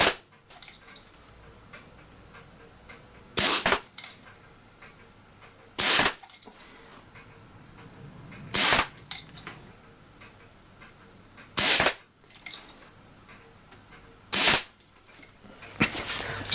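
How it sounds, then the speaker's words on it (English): A vintage Diana Mark IV air pistol fires six separate sharp cracks, spaced a few seconds apart, loud and close against a quiet background. "That's the little Diana Mark IV air pistol. So all we've got left to do is shoot it."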